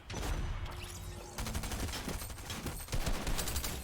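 Stinger SMG fire in the Fortnite video game, heard as dense continuous rapid bursts of gunfire over a busy game mix, fairly quiet overall, with no talking.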